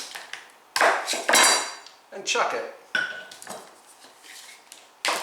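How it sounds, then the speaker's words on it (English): Knife chopping fresh garlic scapes on a cutting board, a run of sharp, separate knocks and clicks, fairly close and loud, with a few spoken words between strokes. "And continue chopping."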